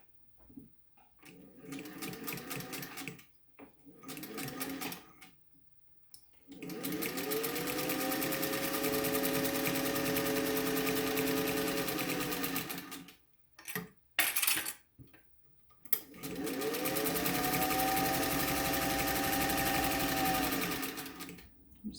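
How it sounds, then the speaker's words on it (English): A sewing machine stitches three sides of a fabric face mask in several loud, steady whirring runs, with short pauses, fabric handling and small metallic clinks between them. "now I'm just gonna quick sew those 3 sides"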